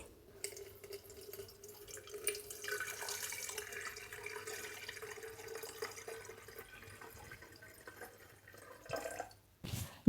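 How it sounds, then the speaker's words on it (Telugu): Water pours into a CANDLEC electric kettle, about a litre, as a steady close splashing trickle that runs for several seconds before a brief louder splash near the end. "నేను 1 లీటరు నీళ్లు పోస్తున్నానండి"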